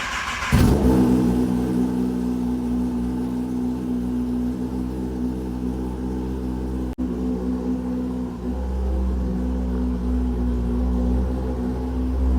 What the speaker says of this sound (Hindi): अभी अपनी बाइक को कोल्ड स्टार्ट